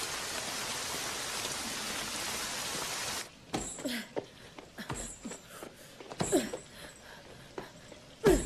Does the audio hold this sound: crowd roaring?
no